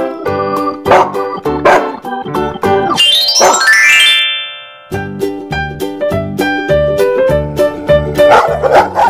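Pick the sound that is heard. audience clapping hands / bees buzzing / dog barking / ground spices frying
dog barking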